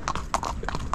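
Horse hooves clip-clopping at a walk during a trail ride in Sri Lanka, several quick close knocks in an uneven rhythm over faint background noise.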